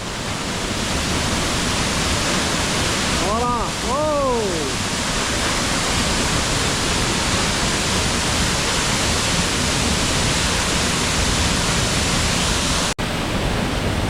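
Steady broadband roar of a waterfall tumbling into a canyon near the Slovenian border, loud and continuous throughout, with a brief voice speaking over it early on.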